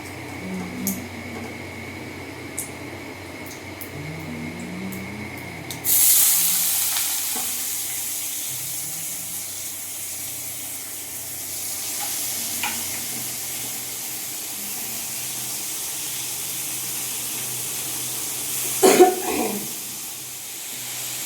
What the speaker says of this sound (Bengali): আলুগুলো ভেজে দেবো তেলের উপর